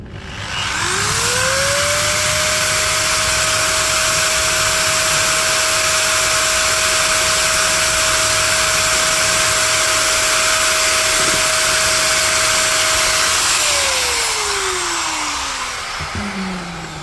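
An H&L HL8050DA dual action polisher runs at maximum speed with no load, a loud steady high whine that rises quickly at the start, holds for about twelve seconds, then winds down as the motor is switched off.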